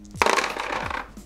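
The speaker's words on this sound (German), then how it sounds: "Man beginnt immer damit, dass man mit 5 Würfeln würfelt. Das kann man hier in der Würfelschale machen." Five dice tumble into a dice tray in a Kniffel game, one quick clattering burst of rolling and knocking that settles within about a second, close and clear.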